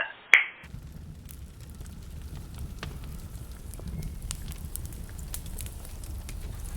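A fireplace fire crackles softly and steadily after a brief sharp snap at the start, with scattered pops over a low, continuous rumble.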